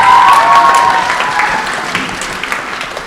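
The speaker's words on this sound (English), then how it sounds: "Another round of applause for" A school assembly audience applauds loudly and steadily after a student performance, the clapping tapering slightly toward the end.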